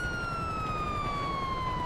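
A police car siren in the video game GTA V, a single steady electronic wail that slowly glides downward in pitch, heard up close and alone.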